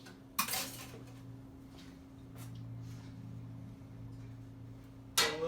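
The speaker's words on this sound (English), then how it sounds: "So I got these pizza pans with the holes in them." Perforated metal pizza pans clatter as they are handled in a home kitchen, with a loud metallic clang at the start and another near the end over a steady low hum.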